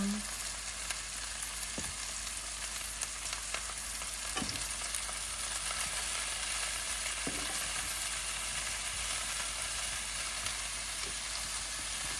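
Swiss chard sizzles and fries steadily in a frying pan, a continuous close hiss with a few soft stirring clicks and no talking.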